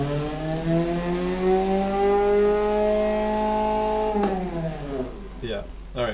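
A car engine in the racing sim Automation revs steadily through VTEC near 6,200 RPM, its tone rising smoothly before dropping sharply as it comes off, with a few exhaust pops at the end.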